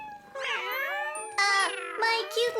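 Cartoon kittens meow in a string of high, bright, overlapping mews, a few clustered calls that rise and fall, close and clear with no speech.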